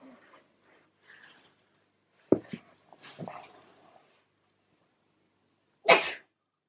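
A person sneezes loudly and abruptly near the end, following scattered faint whimpers and small noises from a scared pug puppy in a quiet indoor room.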